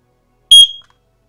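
A single loud, piercing electronic beep from an X-Sense Wi-Fi smoke detector entering pairing mode, sharp and high-pitched, lasting about a quarter second before fading quickly into silence.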